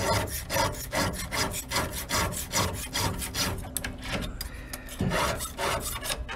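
A hand file sharpens a skip-tooth chainsaw chain in rhythmic back-and-forth rasping strokes, about two per second, close and dry, with a short pause near the end before the strokes resume.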